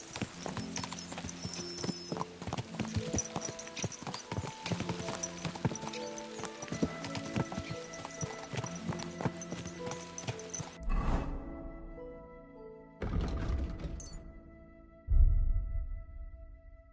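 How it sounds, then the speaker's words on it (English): Horses galloping in Kingdom Come: Deliverance II, with a dense, steady rhythm of hoofbeats that runs for about eleven seconds, breaks off, then returns in short bursts with a louder thump near the end. No one speaks. "Let's really spur these horses on, eh?"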